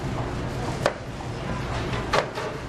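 Two crisp knife chops on a cutting board as a cucumber is quartered for a yogurt salad, isolated thuds spaced about a second apart over a soft room hum.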